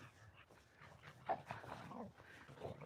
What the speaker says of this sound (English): And Barney's now barking.